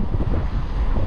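Strong wind buffets the microphone while cycling downhill in Japan, a loud continuous low rumble with no voices.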